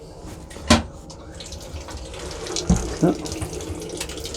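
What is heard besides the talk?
running water from a tap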